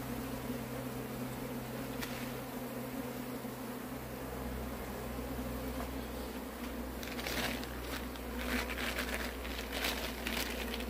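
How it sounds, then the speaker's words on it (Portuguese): Honey bees buzz around an open hive, making a steady, continuous drone with scattered soft rustling and crinkling close by. "Tem bastante abelhazinha."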